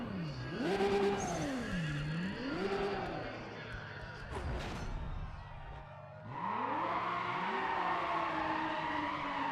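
A Toyota Supra race car in Need for Speed: ProStreet revs in rising and falling sweeps, then skids and squeals its tires loudly, with a brief lull before the engine roars back, while someone talks over it.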